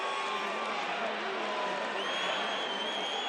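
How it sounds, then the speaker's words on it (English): A sellout crowd at a college football game between BYU and Georgia Southern in Paulson Stadium roars in a steady, dense wall of cheering that fills the whole stretch without a break. "just listen to this sellout crowd in Paulson"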